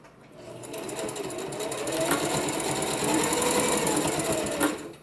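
A sewing machine runs steadily while stitching a pleat into a cloth face mask, its dense mechanical whir close and continuous for the whole stretch, with no voices over it.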